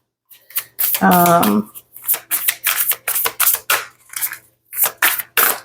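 A new deck of oracle cards is shuffled up close in a rapid series of crisp riffling snaps and flutters, with a brief voice cutting in early on.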